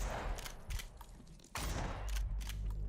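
Rapid gunfire from a video game shooter, dense repeated shots in bursts, fairly loud and close with a brief lull midway, no voices.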